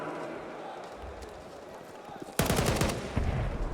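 Rapid rifle gunfire bursts out during a Counter-Strike pro match between NAVI and Vitality at IEM Cologne 2024, loud close volleys of automatic shots following a quieter stretch of in-game ambience with commentators talking underneath.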